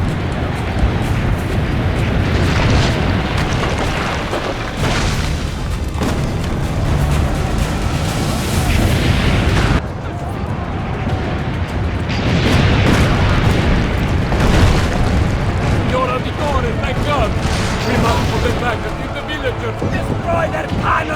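Cannon fire and explosions in Assassin's Creed Brotherhood, repeated heavy booms and blasts in a chaotic battle, loud and continuous over about twenty seconds, with voices talking throughout.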